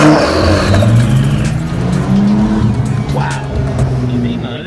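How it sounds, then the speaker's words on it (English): A Honda Civic Type R FL5 with a turbocharged VTEC engine revs its exhaust up close, a loud, steady engine drone rising and falling in pitch while a person speaks over it. "A little exhaust test."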